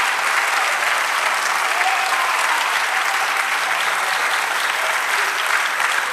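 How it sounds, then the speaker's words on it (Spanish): A church congregation applauds at a sermon, a steady, dense wash of clapping holding at even loudness throughout with no voice rising above it. "Dale un aplauso al Señor"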